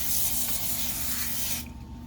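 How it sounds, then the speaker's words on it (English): Butter-flavoured cooking spray misted from a can over chicken taco pockets: a steady close hiss lasting about a second and a half, then cutting off sharply, with no talking. "You know I love this butter spray. So we're going to spray it down."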